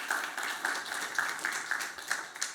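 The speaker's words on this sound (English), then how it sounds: "Round of applause for Jack" Conference audience applauding a speaker, a brief patter of scattered hand claps at moderate distance, fairly thin rather than a roaring ovation.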